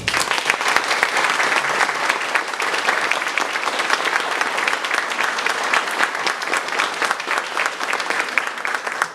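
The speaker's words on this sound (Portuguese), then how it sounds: "eu gostaria de oferecer uma salva de palmas para eles" Sustained audience applause at a spiritist tribute gathering, steady dense clapping from many hands throughout, moderately loud with no talk.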